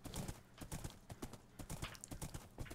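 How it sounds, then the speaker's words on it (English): Rapid, close clip-clop of horse hooves in the Minecraft video game, quick uneven beats of a ridden horse trotting, with a faint whinny-like tone in the background. "maybe I'll ride the horse over there"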